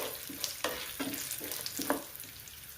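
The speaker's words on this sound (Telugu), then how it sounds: "పప్పులంతా తిరగమాత వేగిన తర్వాత" Dals frying in hot tempering oil and being stirred, producing a quiet sizzle broken by several rhythmic scraping strokes about half a second apart, with no one speaking.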